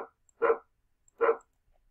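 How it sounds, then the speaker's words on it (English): Two separate dog barks from the Scratch sound library's "dog one" effect, each short and sharp, about three quarters of a second apart, clear and close with silence in between. "Each time I click on it, you can hear a bark."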